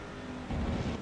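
Demon 90 race truck on the Milwaukee Mile oval, engine noise swelling to a louder, rougher roar halfway through as it gets back on the throttle out of a braking zone.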